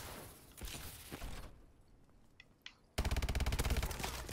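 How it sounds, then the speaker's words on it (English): A KF5 rifle in Call of Duty: Advanced Warfare fires a rapid, evenly spaced burst of loud shots near the end, preceded by muffled gameplay noise and a brief mechanical click. "The fire rate on this gun is absurd."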